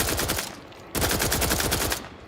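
Rapid automatic gunfire in The Outer Worlds 2, fired while the player character slides, two loud sustained bursts of close, rattling shots separated by a brief pause.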